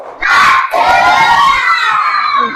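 Primary schoolchildren in a classroom loudly doing a rhythmic clapping-and-shouting spirit cheer in unison, close and energetic, with a brief pause near the start.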